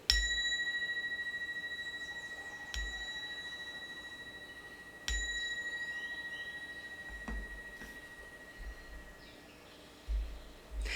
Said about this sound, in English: this is my little compassion bell, to send out compassion. So I'm going to ring it 3 times